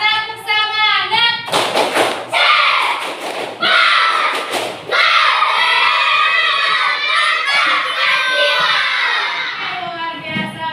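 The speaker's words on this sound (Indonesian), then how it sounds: "Dan tepuk semangat." Schoolchildren perform a rhythmic spirit clap in a classroom, bursts of loud group clapping and slapping thuds with shouted chanting mixed in, building in a patterned sequence.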